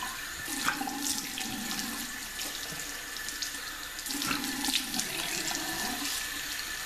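Water running steadily from a bathroom sink tap while face cleanser is rinsed off, a close continuous rushing splash with slight shifts in the flow and no talking.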